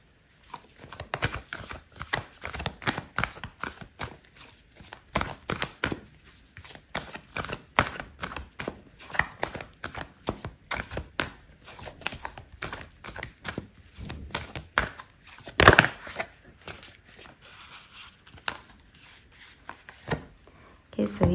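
Dense, continuous rapid shuffling of oracle cards during a tarot reading, a busy papery riffling and rubbing texture close up and fairly loud, running on without pause and with no speech.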